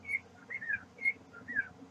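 A person whistles a short melodic phrase of clear, pure notes in a quick repeating pattern, near and alone over a low background hum.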